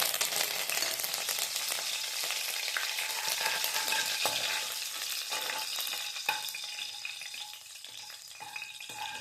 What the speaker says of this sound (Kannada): ಇವಾಗ ಇದಕ್ಕೆ ಕರಿಬೇವಿನ ಸೊಪ್ಪು ಹಾಕ್ಕೊಳ್ತಾ ಇದ್ದೀನಿ.